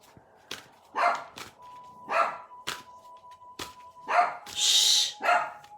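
A dog barks repeatedly in short, sharp bursts with uneven pauses, fairly close, with a faint steady tone humming in the background.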